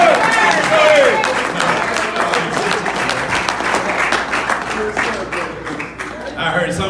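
A church congregation breaks into loud, dense applause that tapers slightly toward the end, while a voice talks over it.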